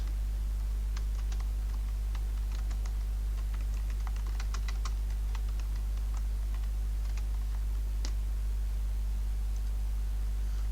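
Clicky keystrokes on a computer keyboard come in irregular bursts over a constant low electrical hum, fairly faint and with no talking.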